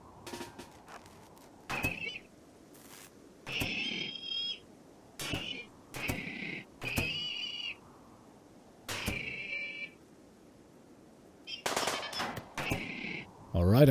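Turrets and a gun firing at Scythers in the video game RimWorld, sharp bursts of rapid shots in irregular clusters separated by quiet gaps, with a louder flurry near the end.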